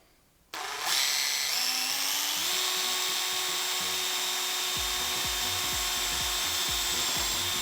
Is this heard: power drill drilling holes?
yes